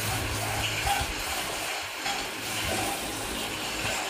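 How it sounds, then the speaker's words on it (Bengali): Soaked rice is washed under running tap water, with close, steady gushing and splashing that dips briefly midway before continuing. "একবার কলের জলে ধুয়ে তারপর আমি আবার খাবার জলে একটু ধুয়ে নিই।"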